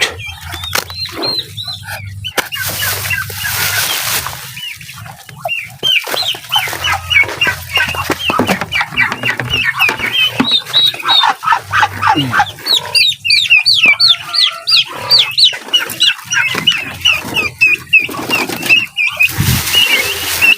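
Dozens of four-day-old turkey and chicken chicks chirp busily, their high peeping calls overlapping in dense bursts with some wing fluttering and brief rustles, close and loud.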